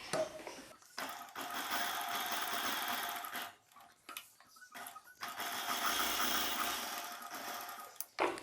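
A domestic sewing machine stitches the lining piece of a silk saree blouse in steady runs, pausing briefly a few times between bursts of close, continuous whirring.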